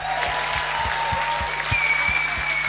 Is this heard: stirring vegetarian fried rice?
no